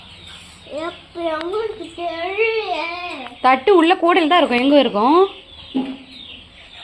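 Hens and chicks at a rural home call out with high, rising chirps and clucks in quick bursts, heard close alongside someone talking.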